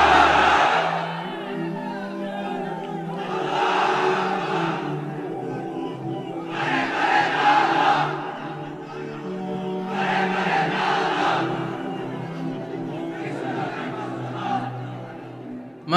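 A large sermon crowd chants the takbir in loud, repeated collective shouts that come in rhythmic swells across the hall, with a preacher's voice prompting between them.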